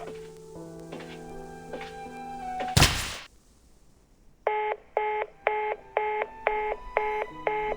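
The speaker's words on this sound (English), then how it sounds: "Looks like the phone got disconnected." A phone in the video game Reverse 1999 plays a run of dialing tones, then a loud thunk, a brief quiet, and seven evenly spaced beeping disconnect tones.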